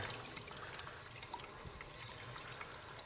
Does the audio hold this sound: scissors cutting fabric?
no